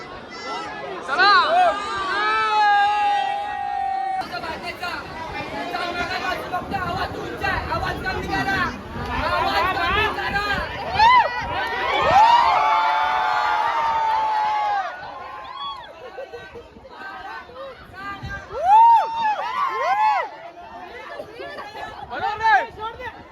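A dense festival crowd at Lalbaugcha Raja fills the air with constant loud babble, shouting and close voices, swelling and easing in waves, with people talking nearby throughout.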